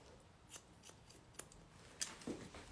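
Scissors snipping hair during a short layered women's haircut, a handful of quiet, crisp snips spaced irregularly over a soft background.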